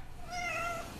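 A pet cat meows once in a drawn-out, rising and falling cry, close and clear, in a kitchen where an apple pie is being baked.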